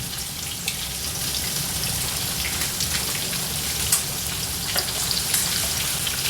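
Salmon and spinach boil vigorously in a pot on the stove, giving a steady, close hiss of bubbling with a few sharper pops scattered through.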